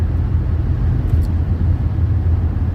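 A used car cruises at highway speed of about 80 mph during a test drive, producing a loud, steady low road-and-engine rumble heard from inside the cabin with no talk.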